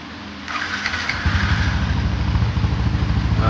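An engine fires up and settles into a loud, throaty idle with a pulsing low rumble from the exhaust, close by.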